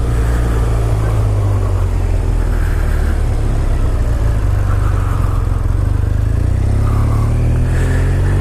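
A BMW R1200R motorcycle engine idles steadily and close by, a continuous low rumble with a mild rise in revs, no talking over it.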